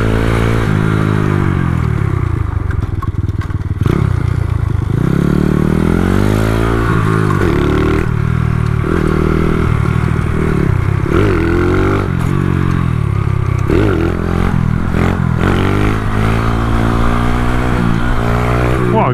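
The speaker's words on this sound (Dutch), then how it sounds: "Uitlaatplofjes zijn wel lekker, zeg." A 140cc Dax motorcycle revs hard during a wheelie test, its exhaust popping and crackling in bursts as the engine rises and falls, loud and close throughout.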